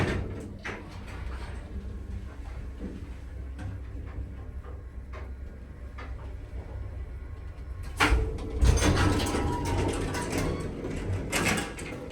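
Vintage Otis single speed bottom drive traction elevator machinery in Dallas, a close mechanical whir with clicks and knocks, swelling into a louder sliding, rumbling burst near the end.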